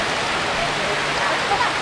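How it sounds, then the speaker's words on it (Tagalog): Rain pours steadily on a mountainside, a dense, even hiss filling the whole clip with no breaks and no speech. "inaabot ulit kami ng ulan sa lugar na ito"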